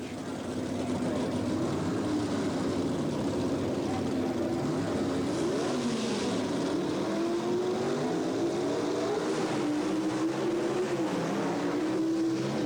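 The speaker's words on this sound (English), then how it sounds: "Again, still in handicap eliminator racing. One car physically getting the head start over the second." Drag racing cars in a 1977 Springnationals handicap eliminator race roar with a continuous loud engine drone whose pitch wavers and climbs as they pull away.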